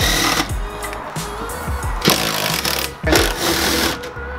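Rapid mechanical rattling from a power tool as 14 mm seat bolts are undone inside a Nissan 350Z, loud and close in several continuous buzzing runs with brief breaks between them.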